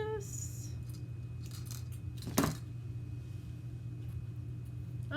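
Scissors snip through a piece of wire while a tobacco basket is decorated indoors, one short sharp cut standing out over a steady low hum and a few faint clinks.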